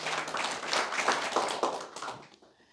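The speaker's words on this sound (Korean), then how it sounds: "박수." A church congregation claps together in quick, even rhythm for a couple of seconds, then the applause tapers off and fades out.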